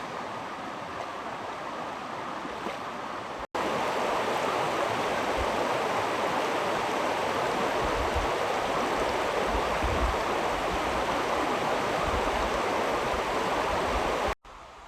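Steady broadband rush of a river flowing past the bank, loud and continuous with a low rumble, alone with no voices, preceded by a few seconds of quieter water sound before it swells.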